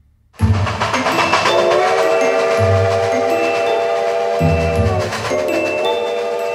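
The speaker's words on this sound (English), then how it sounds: "The train whistle announced they were coming." A loud train whistle blares in a long sustained blast, then sounds again, over the deep rumble of a nearby train.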